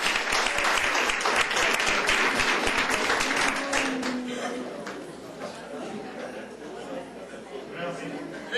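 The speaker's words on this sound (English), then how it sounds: "Let's give another big round of applause." A large room of people claps for county employees at a commissioners court session, a dense, sustained round of applause that stays loud and gradually thins toward the end.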